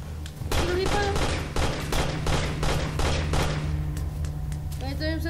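Rapid bursts of gunfire ring out in The Amazing Frog video game, a dense string of sharp shots fired in quick succession over a low droning game soundtrack, then tapering off near the end.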